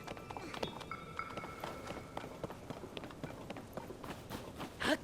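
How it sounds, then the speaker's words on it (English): Tiny running footsteps in Zelda: Tears of the Kingdom patter quickly and lightly at low level, rapid taps blended with faint ambient game sounds and a few bright chimes. "These fucking tiny footsteps, I can't."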